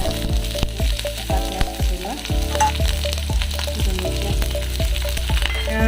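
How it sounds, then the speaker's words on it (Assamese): Onions sizzle steadily in hot oil, with repeated scraping and stirring clatter from a utensil against the pan, close and fairly loud. "পিঁয়াজখিনি অলপ ভাজি ল'লোঁ"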